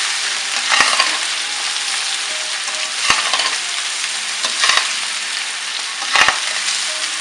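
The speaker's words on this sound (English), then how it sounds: "The okra is a very sticky vegetable, so you need to stir it properly." Okra and potatoes frying in oil, a constant crackling sizzle broken by sharp spatula knocks and scrapes against the pan every couple of seconds.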